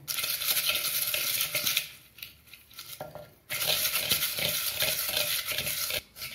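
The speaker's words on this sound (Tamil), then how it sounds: "முதல்ல இந்த மிளகாயை கடைஞ்சிக்குவோம்." Green chilies being mashed with salt in a pan for gongura chutney, a steady close scraping and churning broken by a short pause, then resuming, with no one talking.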